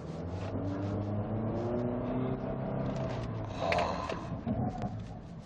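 A used Honda Accord 2.4 EX-L accelerating hard on an uneven road surface, engine droning and rising steadily for several seconds with a brief wheel-spin scrape near the end, heard from inside the cabin without talk.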